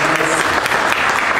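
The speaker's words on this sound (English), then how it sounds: "Would you just clap for yourselves for having done this?" Church congregation applauding themselves, a dense steady wash of many hands clapping close and loud with murmured voices mixed in.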